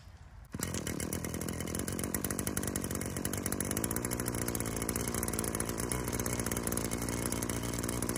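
Echo PAS-2620 small two-stroke engine fitted with an E3 spark plug fires up after a brief quiet moment, then runs steadily with a loud, buzzing, chainsaw-like drone that holds for several seconds.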